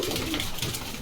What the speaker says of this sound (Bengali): কবুতর তো ডাকলো